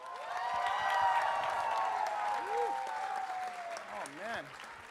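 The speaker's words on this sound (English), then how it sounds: "Give them all a round of applause for that." Audience members at a furry convention dance competition clap and cheer for the performers, a dense swell of applause with whoops, under an emcee speaking over the crowd.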